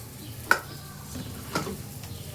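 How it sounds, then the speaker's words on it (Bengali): Garlic, dried chilli and eggplant fry in a pan with a low, soft sizzle, broken by two sharp utensil clinks about a second apart. "এখানে মেথি শাক ভাজবো বলে এই যে রসুন শুকনো লঙ্কা আর বেগুন দিয়েছি ভাজা ভাজা হয়ে গেছে"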